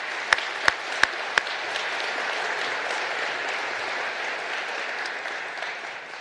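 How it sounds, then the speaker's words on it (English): Audience applauds a visit by Energy Secretary Jennifer Granholm and Second Gentleman Doug Emhoff at Oklahoma State University, opening with a few sharp, loud claps before a sustained, even wash of clapping fills the room. "Let's give them a big round of applause."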